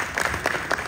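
Brief burst of audience clapping at a stage show, a few distinct claps standing out over a softer background of hands, short and moderately loud.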